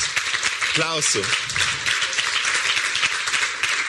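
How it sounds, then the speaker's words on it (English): Applause from a conference audience at an art foundation's closing session in Berlin: continuous, even clapping from a large crowd, with a brief voice heard over it early on. "this is a special applause"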